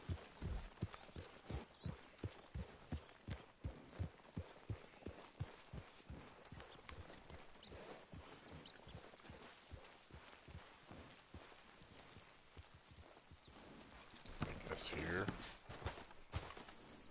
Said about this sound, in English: Where am I supposed to hitch the horse to?